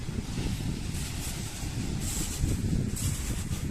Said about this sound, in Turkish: Biraz da deniz hışırtısı dinleteyim size.